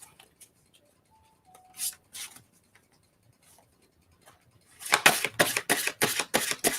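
Tarot cards being shuffled during a live reading: a few faint ticks and scrapes at first, then a loud run of rapid, crisp card riffles and flutters close to the microphone.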